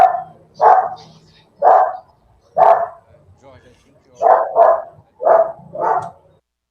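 A dog barks repeatedly nearby during a video call, about eight sharp yips in an uneven rhythm, loud and close, with a brief bit of speech in between.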